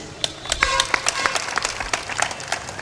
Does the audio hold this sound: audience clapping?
yes